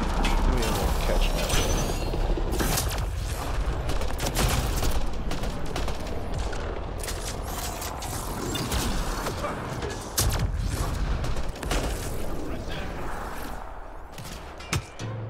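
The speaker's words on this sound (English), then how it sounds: "this gun isn't exactly the easiest thing to shoot" A gun firing in Mass Effect: Andromeda, repeated loud bursts of shots with mechanical clacks and booms amid battle noise, sustained and close, with a voice talking now and then.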